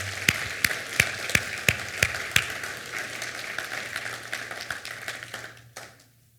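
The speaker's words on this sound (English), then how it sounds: "So let's give a round of applause for them." Church congregation applause, opening with several loud distinct claps, then a lighter, scattered patter of clapping that thins out and stops near the end.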